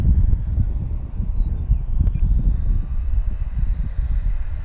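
An FMS P-51 Mustang RC model airplane flies and comes in for a full-flaps landing, its steady engine drone loud and continuous with a broad low rumble and a faint high whine throughout.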